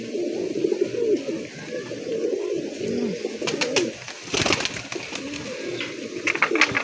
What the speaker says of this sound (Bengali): একটা কালদমা পায়রা, এটা মাদা পায়রা আছে